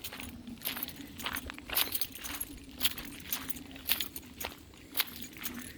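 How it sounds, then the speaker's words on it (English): A bunch of keys jingles in rhythmic bursts with each stride during an autumn outdoor walk, light metallic chinks repeating about once a second over soft footsteps and faint background hum. "you can probably hear my keys jingling"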